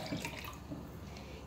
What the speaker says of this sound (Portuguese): Agora eu vou colocar aqui, ó, meio litro de água gelada